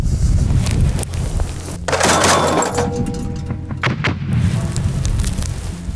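A single heavy shot from an infantry artillery gun booms out over a constant loud roar of outdoor noise, followed by a rumbling tail.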